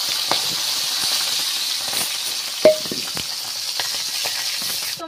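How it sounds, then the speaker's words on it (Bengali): Fish sizzling in hot oil in a home kitchen pan, a steady close frying hiss with small crackles and occasional pops throughout. "তো মাছ ভাজাটা হয়ে গিয়েছে,"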